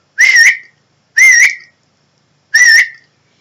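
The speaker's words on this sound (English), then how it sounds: "And so he does the whistle." Three short, loud two-tone whistles, evenly spaced, clear and close with silence between them.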